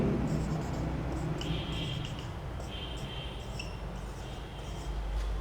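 Marker or chalk writing on a board during a seventh-grade maths lesson on measurement, short squeaky scratching strokes in a few bursts, faint against a steady room hum.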